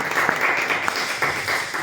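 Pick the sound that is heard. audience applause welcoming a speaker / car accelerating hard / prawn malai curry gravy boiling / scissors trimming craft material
audience applause welcoming a speaker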